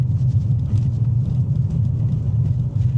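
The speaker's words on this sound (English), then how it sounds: "There's what sounds like a bit of a wheel bearing noise as well. There's a bit of a rumble." Low, steady rumble from a worn wheel bearing on a moving Mercedes C-Class, heard from inside the car as a continuous droning hum with road noise, fairly loud and without talking.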